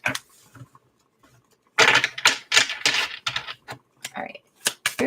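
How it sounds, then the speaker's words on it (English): Tarot cards being shuffled, a sequence of quick papery riffles and taps in short bursts after a quiet start, fairly close and crisp. "this will be our last shuffle"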